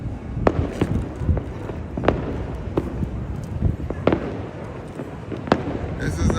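Personal fireworks going off around Trinidad on New Year's Eve, a steady stream of sharp pops and bangs at varying distances, some close and loud, over a dense crackling background with faint voices.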